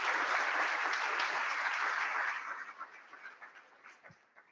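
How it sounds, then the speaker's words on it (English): Conference audience applauds the people on stage, a broad burst of clapping from a large crowd that thins out and fades into scattered claps toward the end. "A big round of applause for the beautiful faces on our stage today."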